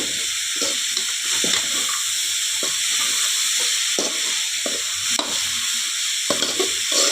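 Vegetables frying in a hot pan for homemade fried rice give a loud, steady hissing sizzle, broken by repeated scraping stirs of the spatula throughout, with no talking.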